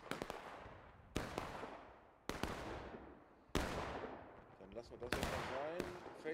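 Musket volleys crack in a War of Rights video game gunfight, five sharp reports spaced about a second apart, each trailing into a long echoing decay, with scattered shouting voices in the background.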